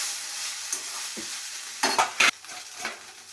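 Spatula scraping and stirring boiled Maggi noodles in a frying pan, a few sharp close scrapes and clatters over a soft sizzle.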